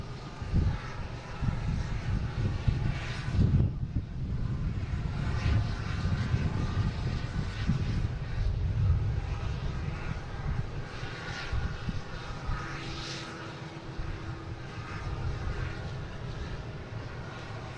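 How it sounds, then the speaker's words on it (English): A Hawker business jet coming in to land at Boston Logan, a steady broadband engine roar with low rumble that holds through the whole stretch, moderately loud and distant, with no voices. "we got a Hawker coming in"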